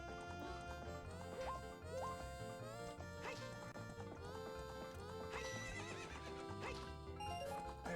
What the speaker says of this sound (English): A very majestic horse.